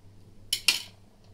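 A knife slits a bitter gourd (karela) on a kitchen surface, giving two sharp, close scraping cuts in quick succession over quiet background hum, with no talk.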